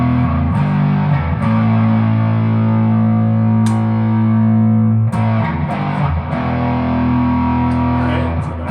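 A heavily distorted electric guitar played through a PackRat distortion pedal plays thick, low chords and riffs with sharp pick attacks and a fuzzy, saturated tone, loud and up close.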